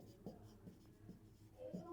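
A pen scratches on paper in a quiet room during a math lesson, with several short, faint strokes at irregular intervals and no talking over them.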